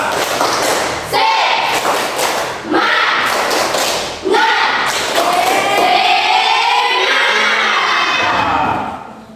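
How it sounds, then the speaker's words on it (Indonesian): Schoolchildren in a classroom chanting together in bursts, each with rhythmic group clapping and thumping, loud and close, ending in a sustained cheer. "mari kita sama-sama tepuk semangat"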